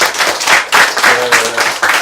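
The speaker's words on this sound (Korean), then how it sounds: "우리 한번 박수 쳐드리겠습니다." A church congregation claps for a young member's birthday in a short, loud burst of rhythmic clapping, close and dense, with a faint tonal hum partway through.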